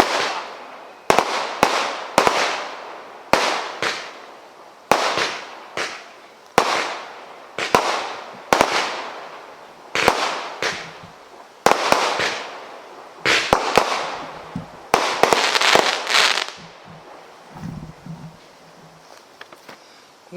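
Consumer fireworks are set off one after another at an outdoor sale-day demonstration, a steady run of sharp cracks and bangs at close range with brief crackling tails, alone without talk.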